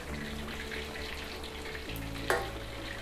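Sea bass frying in hot oil in a wok, a steady close sizzle running throughout with one brief sharper spatter near the end.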